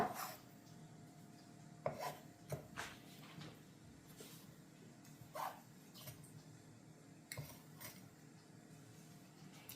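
A knife cuts sweet kara sev into small pieces with quiet, intermittent chopping taps and scraping on a board, faint and close, with no talking.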